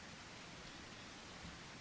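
Rain in the dinosaur survival game The Isle, a soft, steady hiss of falling rain with no distinct drops or breaks, faint and continuous with no voices.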